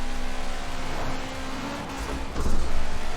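Car engine in Forza Horizon 4, fitted with snow tires, holding a steady high drone that swells louder near the end as it revs toward 8,500 RPM.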